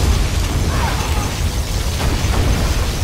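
Particle cannon firing in C&C Generals, a Chinese-faction battle: a dense, sustained roaring blast with crackling bursts and a low rumble, loud and continuous.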